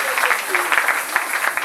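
A church congregation claps for the Lord, a dense, lively patter of many hands ringing out in a large room, with voices mixed in beneath the applause.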